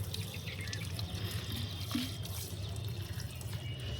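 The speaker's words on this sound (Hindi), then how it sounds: "पूरा अच्छे से पानी डालूँगी।" Water poured onto soil in dry potted plants on a rooftop, a soft steady trickle and splash running throughout at close range, with low background hum and no talking.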